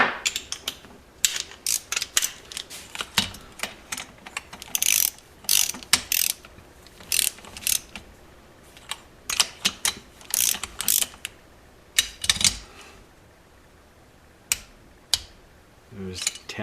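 Ratchet wrench tightening cylinder head bolts on a 1973 Honda CB750, a series of quick, crisp clicking bursts in short runs with pauses between, close and fairly loud.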